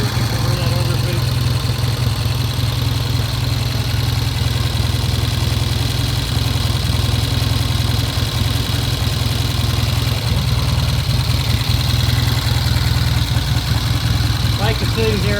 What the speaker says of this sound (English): Bike is sitting here idling right now.